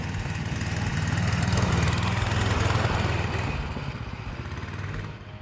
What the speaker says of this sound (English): It's common knowledge how irritating the petrol engine noise can be.